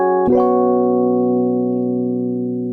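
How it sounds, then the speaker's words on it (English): A sustained sus2 chord played from Ableton's Expressive Chords device rings out as a single struck chord with rich layered harmonics, holding steady and slowly fading, loud and clear with no talk. "the whole chord bank that he's provided here are a bunch of sus2 chords"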